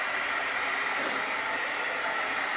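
A hair dryer blows steadily on white glue during a kitchen craft project, producing a continuous, loud, even whoosh that holds unchanged throughout with no voices.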